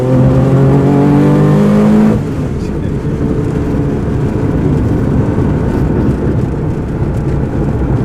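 Loud, harmonic engine note of a Porsche 911 RSR recreation heard from the passenger seat on a winding road, revving high for about two seconds, then dropping to a dense, rumbling drone.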